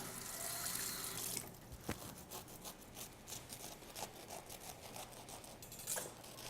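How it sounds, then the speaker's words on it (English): A kitchen knife rinsed under running tap water, a steady faint stream with soft rubbing and scraping as the blade is washed, no voices. "Let me give my knife a little rinse."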